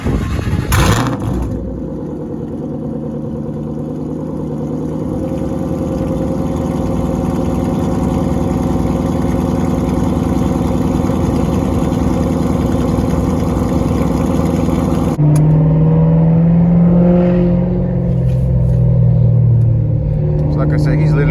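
A 2012 Shelby GT500 engine runs steadily at a loud, close idle for most of the span, then shifts to a deeper, rougher tone near the end, with a voice talking over it.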